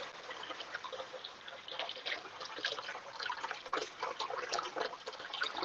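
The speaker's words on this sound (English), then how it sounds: "the second wash, I'm going to use the tap water to cool it again." Tap water runs steadily in a kitchen sink, splashing over cooked udon noodles as they are rinsed and cooled for a cold noodle salad, a soft continuous patter with small drips, heard alone without talk.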